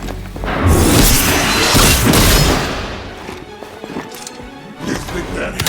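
Incoming fire and explosions in the Midnight Suns video game, a loud sustained burst of crashing blasts that fades into scattered impacts, with voices speaking over the battle.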